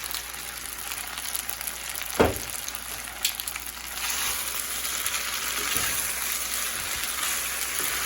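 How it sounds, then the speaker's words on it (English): Spinach parmesan pasta with baby spinach sizzles steadily in a pan over medium heat, a constant close hiss broken by a few brief scraping stirs, with no talk. "I'm just gonna flip this and mix it up. Keeping that heat at a medium."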